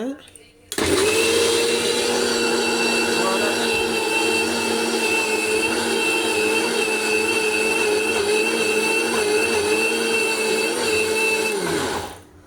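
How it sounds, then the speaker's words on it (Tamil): A mixer grinder runs steadily, grinding soaked urad dal into idli batter: a loud, close, continuous motor whine that starts abruptly, holds for about eleven seconds and then winds down. "ஊற வச்சு ரொம்ப நேரம் ஊறி இப்போ எடுத்து அரைக்க போகிறோம்"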